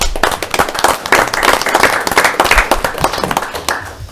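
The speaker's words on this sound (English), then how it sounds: "give yourselves a round of applause for being involved" An audience at a board of directors agenda meeting gives itself a round of applause, close and loud, with brisk, uneven clapping from a modest group lasting about four seconds.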